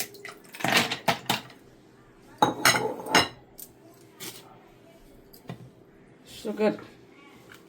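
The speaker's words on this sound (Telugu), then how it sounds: "ముందు కొంచెం పెరుగు తీసుకొని ఐస్ క్యూబ్స్ వేసుకొని" Ice cubes clink and clatter into a container of yogurt for lassi in a few short bursts of knocks, with a quiet gap between them.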